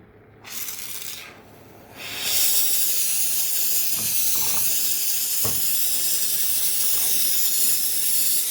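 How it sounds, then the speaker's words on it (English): A torch roars to life to heat a new ceramic crucible for seasoning with borax, first a brief hiss, then a loud, steady rushing flame with a few faint clinks beneath it. "Let's get this crucible hot."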